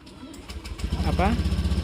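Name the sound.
motorcycle engine starting with alarm system starter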